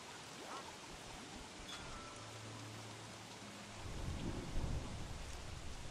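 In the survival game Don't Starve Shipwrecked, a storm brings a steady wash of rain, with low thunder rumbling and swelling louder toward the end.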